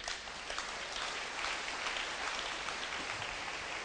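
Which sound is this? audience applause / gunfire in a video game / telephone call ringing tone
audience applause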